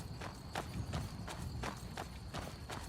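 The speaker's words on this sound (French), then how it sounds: "J'entends même le bruit des sabots sur la pierre." Horse hooves clop on stone in the video game Skyrim, a steady run of about ten regular strikes at moderate distance with a low rumbling bed underneath.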